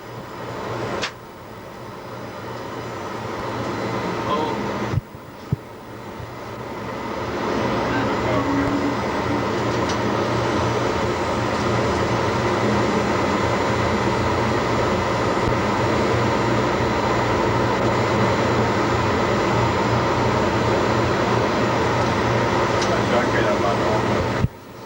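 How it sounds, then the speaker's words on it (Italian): A locomotive uncoupled from its train in an Italian railway station begins a shunting move, producing a steady rumbling drone of engine and wheels with occasional clunks, close and continuous after a quieter opening. "La locomotiva viene sganciata dal treno ed ora inizia un movimento di manovra."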